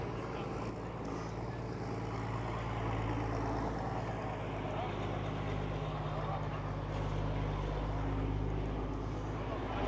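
A John Deere tractor engine runs with a continuous low, heavy drone at an outdoor tractor festival, steady and fairly loud, with faint crowd sounds around it.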